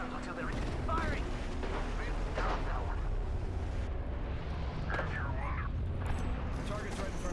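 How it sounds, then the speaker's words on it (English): Dense, continuous gunfire and explosive bursts from an Apex Legends firefight, loud and sustained throughout with a busy, chaotic texture and a voice now and then over the top. "They're shooting at me."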